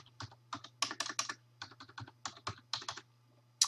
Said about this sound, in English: So now I'm going to type in my library card number.